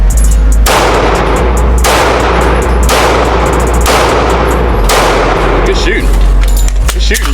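Handgun shots in a live-fire drill: four loud, sharp reports spaced about a second apart, each with a broad crack and short decay, over steady outdoor rumble, with quieter activity after the last shot.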